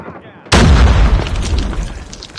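A grenade detonates in a video game: one sudden, loud, close blast that ends a quiet lead-in, then fades into a long rumbling roar.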